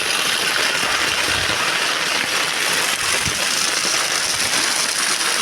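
Heavy rain pours steadily outside a house, with water rushing along the road in a loud, dense, unbroken hiss that fills the whole stretch; no voice is heard.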